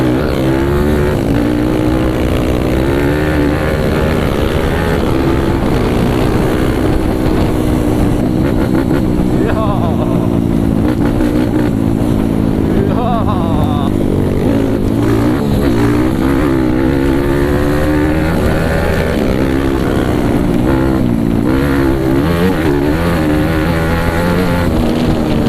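A trail motorcycle revving hard on a dirt trail, loud and close, its engine rising and falling continuously under wind noise with people talking over it.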